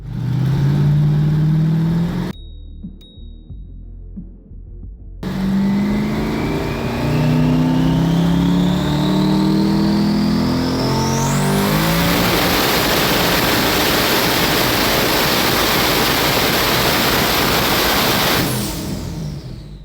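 A loud, raw 1500 hp Volvo engine with no exhaust screams at full throttle, pitch climbing steadily through a long pull, briefly cutting out near the start, harsh and unmuffled throughout.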